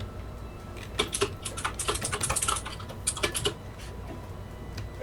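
Fast keyboard typing during a rigging stream, a busy run of clicky keystrokes in bursts across the middle, fairly close and with no talk over it.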